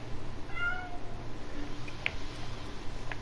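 Loud cats meowing indoors, a drawn-out cry early on followed by a couple of short chirps, over a steady low background hum.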